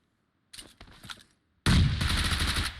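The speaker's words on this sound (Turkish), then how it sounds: "Bir dakika biri vuruyor ona." A few scattered shots crack in PUBG Mobile, followed after a short gap by a loud, continuous burst of automatic gunfire that runs to the end.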